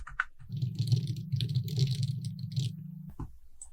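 Quick, soft typing on a computer keyboard with fast irregular key taps, set against a low steady hum and ending in a slightly louder click.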